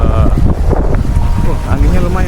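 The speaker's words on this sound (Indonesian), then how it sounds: "anginnya lumayan guys." Strong gusts buffet the microphone at a small harbour before boarding a boat, a loud rumbling roar with rapid fluctuations and a faint voice mixed in.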